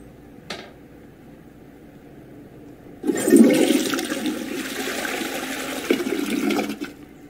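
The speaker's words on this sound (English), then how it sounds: "I could flush it down the toilet." A toilet flushes in the 12 Minutes game: a sharp click, a pause, then a loud rushing surge of water that drains away and fades over several seconds.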